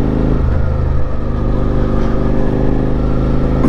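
A Suzuki SV650 motorcycle engine droning loudly and steadily during an early morning ride, a close, constant rumble with wind noise and no talking.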